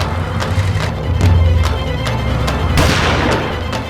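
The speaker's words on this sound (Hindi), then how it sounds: "पटाखे नहीं फोड़ रहे हैं प्रिय, गोलियां चला रहे हैं, गोलियां।" Gunshots ring out in a comedy TV scene, a run of sharp repeated cracks and booms at irregular intervals, loud and close, under a low rumbling background.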